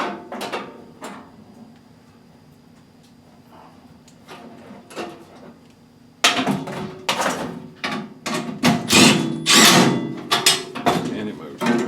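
Wrench tightening bolts while an ATV seeder is assembled: metallic ratcheting and clanks come in quick bursts, sparse at first, then louder and denser, with someone speaking between them.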